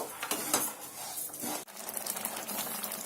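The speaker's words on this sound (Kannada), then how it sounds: "ಹಾಲು ಕುದ್ದು ಅರ್ಧದಷ್ಟು ಆಗಿದೆ ಇನ್ನು ಸ್ವಲ್ಪ ಗಟ್ಟಿಯಾಗಿ ಕುದಿಬೇಕು" A spoon scrapes and clinks steadily around a pan of boiling colostrum milk being thickened into khova, with faint bubbling and sizzle beneath, close and continuous.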